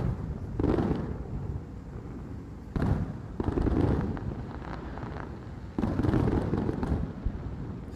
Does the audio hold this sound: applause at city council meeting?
no